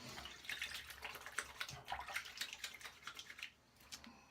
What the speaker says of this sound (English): I'm going to rinse my hands off. I'm going to splash a little water on